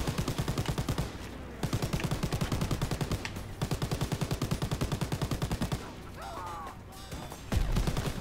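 A half-track mounted machine gun in Call of Duty: WWII fires in long, steady rapid bursts. The close, punchy rattle breaks off briefly between bursts, and a heavy crash lands near the end.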